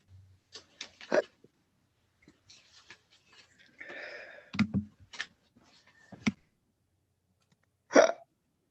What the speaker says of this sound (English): Who's got the hiccups?